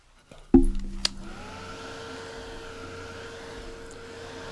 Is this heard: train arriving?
no